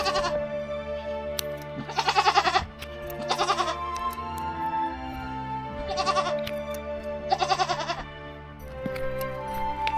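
Goats along a creek bleat during a hoof-trimming pedicure, with four loud, wavering bleats spaced a few seconds apart, close to the microphone over a low steady hum.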